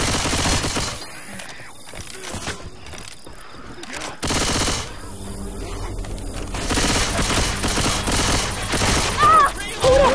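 Gunfire in the video game Left 4 Dead 2, with dense bursts of rapid automatic shots, heavy and continuous, broken by a brief lull and mixed with game noise and voices.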